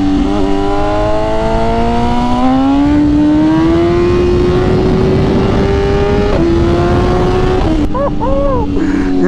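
A BMW M1000RR motorcycle at speed with wheelie control switched off screams loud and close, its engine note climbing steadily in pitch with quick gear-change dips near the end.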